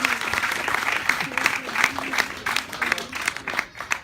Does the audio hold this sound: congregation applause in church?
yes